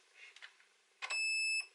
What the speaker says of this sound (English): once you install the battery, you get this nice little beep there